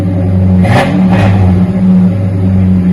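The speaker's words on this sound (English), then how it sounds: "Gotta come off that cold idle a little bit." A 1977 Ford F150 engine fitted with Flowmaster 40 mufflers rumbles loud and close at a cold idle, with two short throttle blips rising over the steady low drone.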